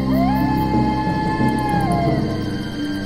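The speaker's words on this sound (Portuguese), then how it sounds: "Os sons horríveis de todos os animais selvagens na floresta começaram a ecoar" Wild animals and wolves howl in a night forest in a fairy-tale setting, long sliding wails rising and falling over a dense rumbling bed, continuous and eerie with no talk.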